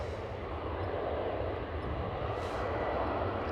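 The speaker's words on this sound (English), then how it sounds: "There goes the KLM Cityhopper E190." A KLM Cityhopper Embraer E190 jet at Amsterdam Schiphol produces a steady, continuous engine roar with deep rumble, heard at moderate distance without talk.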